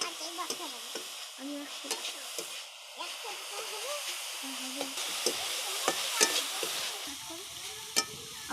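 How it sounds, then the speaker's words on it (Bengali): Grated coconut frying and being stirred in a pan while making milk puli pitha, a soft steady sizzle with repeated scraping strokes of a spatula across the pan. "নারকেলটা ভাজা হয়ে গেছে"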